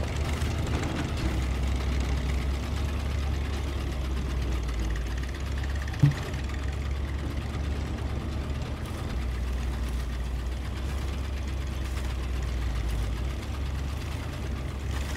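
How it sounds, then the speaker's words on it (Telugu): A tractor engine in SnowRunner pulls a load with a steady low rumble. The drone stays even and close throughout, with a single faint knock partway through. "ట్రాక్టర్ బాగా లాగుతుంది"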